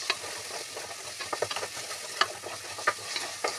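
Curry leaves fry and sizzle in hot oil in a pan, with crackling pops and spits and the scrape of stirring, close and fairly quiet.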